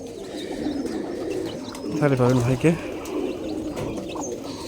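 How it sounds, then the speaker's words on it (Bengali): Pigeons kept in an abandoned courtyard, including Giribaz birds, give one short, close, throaty coo partway through, while someone talks over a soft background of other bird sounds. "আর বাজে দেখার মতন নাই কবুতর"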